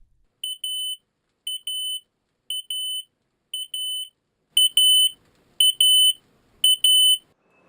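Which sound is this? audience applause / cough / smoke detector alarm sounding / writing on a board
smoke detector alarm sounding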